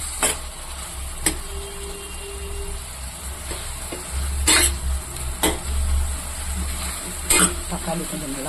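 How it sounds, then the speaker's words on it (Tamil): Tomatoes with salt sauté in a pan for a homemade beans gravy, a steady low sizzle with intermittent sharp scraping and stirring clicks of a utensil against the pan. "தக்காளி கொஞ்சம் நல்லா வதங்கிட்டோம்."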